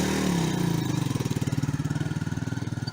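A repaired Musstang Alpha motorcycle engine runs close by, settling from a rougher rev into a steady, rapid chugging idle that pulses evenly throughout.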